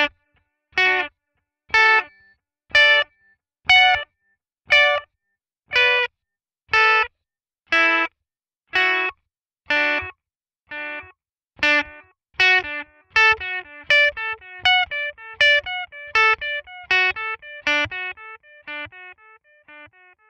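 Electric guitar notes run through a half-note delay on a Headrush pedalboard, picking a D major scale: evenly spaced plucks at first, then a busier syncopated pattern with repeats overlapping, a slightly distorted tone, no voices.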